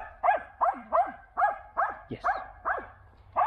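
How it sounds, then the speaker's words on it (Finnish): A rescue dog barks in a cage, giving a steady run of about nine sharp, evenly spaced barks at close range, with one brief spoken word in between. "niin jää vähän haukkuminen päälle"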